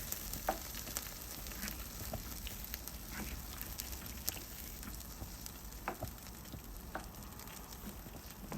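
Vegan green chile stew with flour cooking in a pot, a steady soft sizzle and bubbling with occasional scrapes and clicks of stirring, close and continuous without talk.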